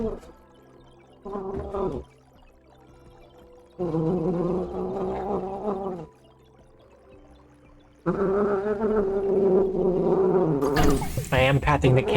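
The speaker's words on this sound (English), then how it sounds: "I am patting the cat. That's why she's doing these noises." A cat makes a run of gurgling, purring-like vocal noises in three sustained bursts while being patted, with pauses between and a sharper higher sound at the end, close to the microphone.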